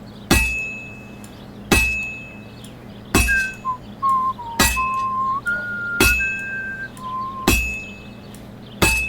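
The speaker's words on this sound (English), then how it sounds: "Now take the hammer and try hitting it a few times." A hammer strikes a sword on an anvil in Kingdom Come: Deliverance II, seven sharp ringing blows about a second and a half apart, with a thin whistling tone sliding between some of the strikes.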